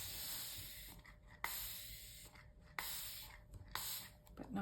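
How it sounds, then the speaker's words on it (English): A spray bottle mists water onto hot-press watercolour paper in a few short, soft spritzes, each starting with a sharp trigger click, close by and quiet. "Just spray it a tiny bit"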